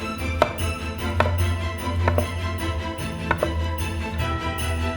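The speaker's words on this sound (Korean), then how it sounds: "도마로 옮겨서 껍질째 원으로 썰어주세요." Baked potatoes, skin on, are sliced into rounds on a cutting board, with a knife striking the board in a handful of crisp, irregularly spaced chops over light background noise.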